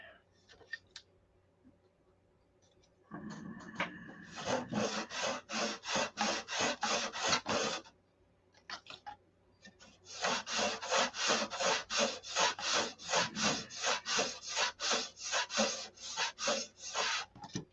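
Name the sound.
filing the edges off wooden ribs for a model Viper wing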